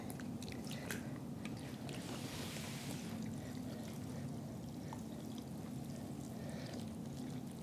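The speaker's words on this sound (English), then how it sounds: "we rinse the produce in this baking soda vinegar mixture" Hands swish and rinse produce in a bowl of baking soda and vinegar water, giving a steady, close wet sloshing with soft squishy splashes that runs without pause and without talk.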